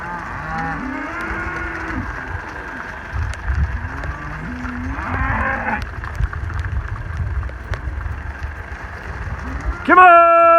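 Several cows moo in long, drawn-out calls over steady background noise as they are moved, with a sharper animal cry near the end.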